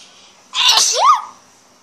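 A single sharp sneeze bursts out close to the microphone, brief and loud against a quiet background.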